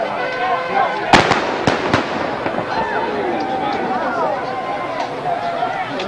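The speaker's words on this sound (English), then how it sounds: "Those are blank charges the artillery is using, but you can feel a blast, even at this distance." Blank artillery charges fire at a Civil War reenactment with cavalry and infantry, two or three sharp distant blasts over constant crowd chatter and talking at an outdoor field.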